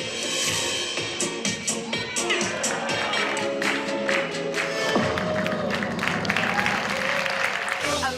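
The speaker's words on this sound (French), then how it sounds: "ceux qui l'ont découvert en ligne applaudissent en vrai les tours les plus spectaculaires" Audience clapping at a Las Vegas magic show, a dense steady wash of applause with some cheering and crowd noise throughout, loud and sustained.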